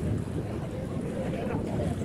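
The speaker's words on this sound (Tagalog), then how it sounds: "Malakas ang hangin" Strong wind buffets a small boat out at sea, a steady rough roar with broadband rumble and faint voices in the background throughout.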